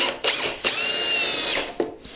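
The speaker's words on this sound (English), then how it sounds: "You can drill pilot holes if you want." A power drill whirs in short bursts, one sustained run of about a second between brief starts, as it drives a pilot hole into a raised garden bed board, close and alone.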